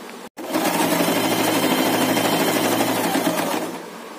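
A sewing machine stitches a mini tote bag in one continuous, loud, close run of rapid rattling, preceded by a brief click and gap.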